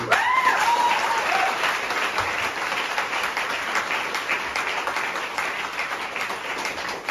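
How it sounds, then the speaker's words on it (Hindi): Sustained, loud applause from a large audience at a business gathering, steady clapping throughout with a brief whistle-like tone near the start. "जोरदार तालियां हो जाएंगी।"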